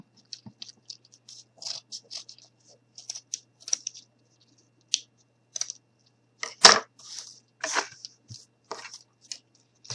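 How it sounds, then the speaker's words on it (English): Scissors snipping through cardboard in short, irregular crisp cuts, close by, with a few louder crunching snips toward the end. "take my scissors and we're just going to cut around that cardboard"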